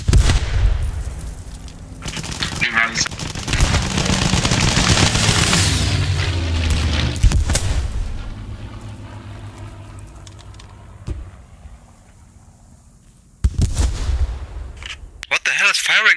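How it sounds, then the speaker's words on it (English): An artillery piece fires from up a hill in the video game Post Scriptum, set in the Battle of Crete, giving heavy booming blasts with long rumbling tails, followed by sharp sudden shots near the end. "There's an artillery piece up the hill."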